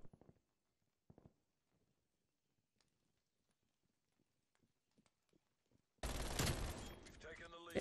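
Gunfire in a first-person shooter video game bursts out loudly near the end as a rapid fusillade, after a stretch of sparse faint clicks and a few brief sounds.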